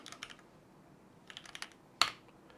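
Keystrokes on a computer keyboard while writing Node.js test code in an editor, a few quiet bursts of taps with pauses and one sharper clack near the end, no voices.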